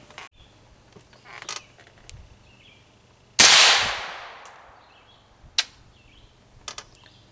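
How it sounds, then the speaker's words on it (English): A BCI Dagger pistol fires MagTech 123 grain supersonic ammunition in one sharp, loud close report with a lingering ring, set among faint clicks and handling taps. "I want to shoot 5 rounds at 8 feet from the muzzle with the MagTech 123 grain standard supersonic ammo"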